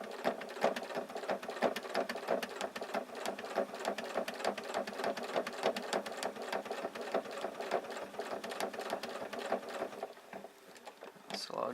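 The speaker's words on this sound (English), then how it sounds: "I'll take a little pivot, come across with a manual stitch, and then another little pivot, and come up the other side." A sewing machine stitches through fused fabric in a fast, even mechanical chatter, slowing and pausing near the end after pivots and a manual stitch; the running needle is fairly quiet and close.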